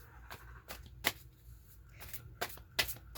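Playing cards shuffled for a tarot-style reading, giving soft riffling bursts and crisp snaps at uneven intervals, fairly quiet and close, with no talking.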